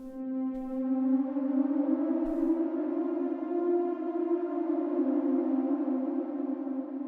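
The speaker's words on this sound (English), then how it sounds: "some long reverb on it, like shimmer" A sustained tone washed in long shimmering reverb, its layered harmonics ringing and slowly swelling into a smooth, bright, continuous drone.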